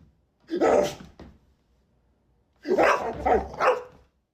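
A dog barks near and clear: first a single bark, then a short pause, then a quick burst of two or three barks, with quiet between.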